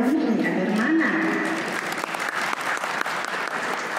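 An audience at a Christian education congress workshop breaks into applause, a loud crackle of many clapping hands that starts under a voice and then continues on its own.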